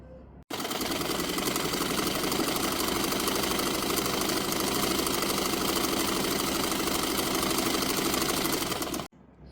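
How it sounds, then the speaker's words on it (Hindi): A sewing machine runs one continuous, loud stretch of rapid stitching along a garment sleeve, starting and stopping abruptly, with an even mechanical buzz and no voices. "नीचे से स्लीव को हम कच्ची सिलाई में स्टिच कर लेंगे"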